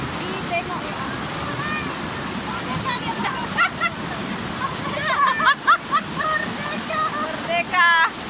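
Water rushes steadily along the Bekok river in a forest recreation area, a close, broad wash of flow with occasional splashes, while people talk and call out over it and birdsong chirps through later on.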